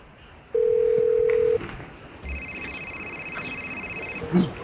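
A steady single-pitch tone for about a second, then a brief pause before a higher, buzzy multi-tone ring plays for two seconds.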